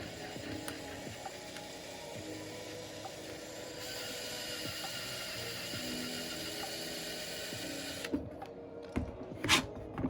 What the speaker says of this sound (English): And drill that one out a little bit more.